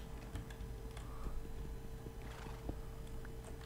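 A horse in Minecraft neighs faintly while hooves clip-clop in a quick, steady patter under light clicking, all quiet and close with no talking.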